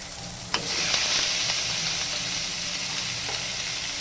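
Pork sizzles steadily in a hot pan with garlic and onion for a Filipino mongo dish, a loud continuous hiss with a few faint clinks and stirring sounds close by, and no voices.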